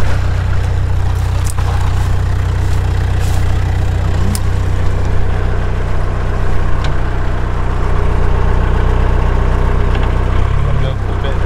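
A narrowboat engine runs steadily in gear on a canal at Middlewich, a continuous low chugging drone that holds loud and even throughout, with a brief shift in tone near the end.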